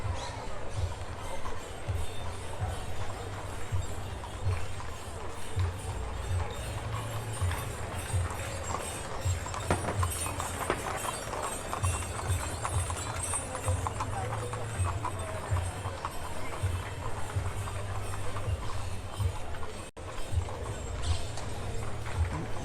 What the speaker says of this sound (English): Be careful, there's another horse and cart coming up behind me.